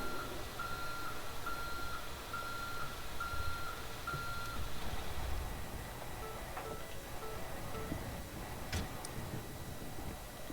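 A truck reverses in a roleplay video game, its backup alarm beeping at a steady, evenly spaced rate. The beeps sit under a constant engine drone, with a couple of sharp clicks near the end.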